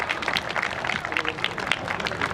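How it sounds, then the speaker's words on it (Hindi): An audience at a walkathon event in Pune applauds, a steady patter of many hands clapping at moderate distance, fairly soft with mixed crowd noise throughout. "तालियां रुकनी नहीं चाहिए गाइस"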